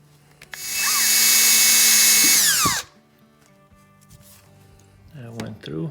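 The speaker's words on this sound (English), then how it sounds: "now let's try drilling a couple of holes in the seal." A power drill boring holes through the brake shaft seal of a 1965 John Deere 110 round fender tractor, a loud high whine for about two seconds that winds down, followed by quieter handling noises and brief talk.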